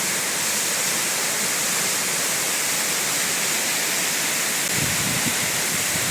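Rushing water of the Gürgüre waterfall in Yukarı Civanlı village during a descent, a steady loud broadband roar that stays even throughout, with a brief low thump near the end.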